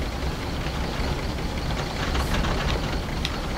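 Boat engine from the Resident Evil 7 video game, a steady low rumbling drone with a gritty, knocking texture, continuous throughout and heard alone without talk.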